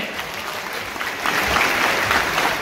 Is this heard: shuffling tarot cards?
no